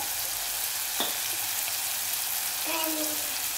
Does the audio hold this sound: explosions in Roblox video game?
no